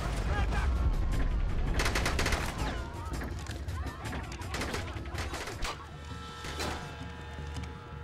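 Loud, dense gunfire from The Bourne Conspiracy video game, with rapid overlapping shots and automatic bursts that run continuously, easing only slightly toward the end.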